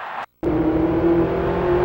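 Race car engines rev and drone steadily in the NASCAR 2000 video game at Bristol, a loud continuous buzzing roar starting after a brief cut to silence, with no talking.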